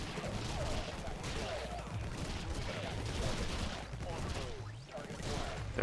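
Turret gunfire in Infested Planet, a continuous rattling stream of small-arms shots with constant crackling impacts, steady and fairly close, and someone talks over it.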